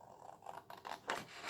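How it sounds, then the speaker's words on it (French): Scissors cut through cardstock for an explosion box craft, a few close, crisp snipping and slicing strokes in quick succession with no talking. "donc vous prenez vos ciseaux"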